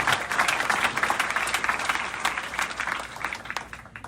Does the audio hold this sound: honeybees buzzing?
no